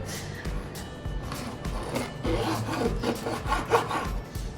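Knife cuts through mutton fat on a board in a home kitchen, giving soft repeated rubbing and scraping strokes at close range, fairly quiet and uneven in rhythm.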